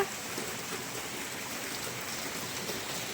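Heavy rain pours steadily, a dense, continuous broadband roar of water with no pauses or voices.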